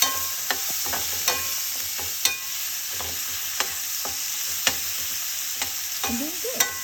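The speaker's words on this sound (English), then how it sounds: "And now mix it well with the spatula." A spatula stirs tomatoes and moong sprouts frying in a pan, with steady sizzling throughout and regular scraping knocks against the pan about every second.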